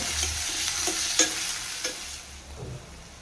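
Finely chopped onion and cumin fry in hot oil with a steady sizzle as a spoon stirs, tapping and scraping the pan several times. The hiss eases slightly toward the end, and no one speaks.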